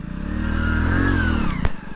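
A motorcycle engine runs close by with a steady droning hum that swells slightly, then a sharp clatter near the end as the bike is moved, no talk over it.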